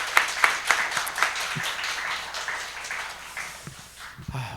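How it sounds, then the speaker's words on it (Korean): A church congregation claps in blessing during a Sunday youth worship service; scattered, uneven hand claps sound through a reverberant hall, moderately loud, with a few sharper claps near the start and a quieter tail. "축복의 박수 부탁드리겠습니다."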